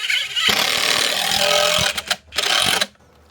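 A power drill drives a 3-inch screw into wood for a palm box build, a loud whirring burst lasting about two seconds, then two short stuttering pulses before it stops, leaving near silence.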